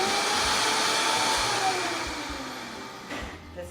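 A Vitamix blender purees cooked vegetables with a loud, steady high-speed whirring roar that slowly eases in pitch and loudness, heard alone and close.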